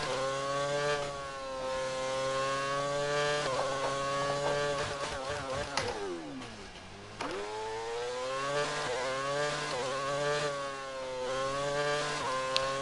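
A 2008 McLaren Formula 1 engine screams in a racing video game, a steady high-pitched whine that climbs through gears, dips sharply as it lifts off, then revs back up and holds high, loud and continuous.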